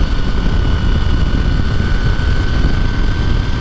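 Honda VTR1000 SP1 V-twin sport motorcycle accelerating, a loud, continuous engine roar with a steady droning pitch throughout, heard close without any talking.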